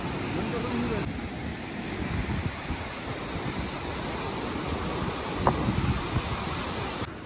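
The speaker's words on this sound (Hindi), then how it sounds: "पर नदी का फ्लो बहुत तेज है यार," Fast-flowing mountain river in the Valley of Flowers, a loud, continuous broadband rush of water that holds steady throughout, with a faint voice underneath.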